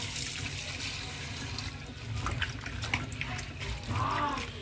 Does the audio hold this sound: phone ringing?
no